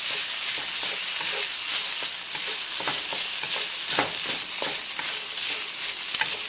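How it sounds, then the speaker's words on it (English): A chicken stir-fry with vegetables sizzles loudly in a pan while a utensil stirs and tosses it, giving irregular scraping clicks over a continuous hiss. "Give that a quick stir."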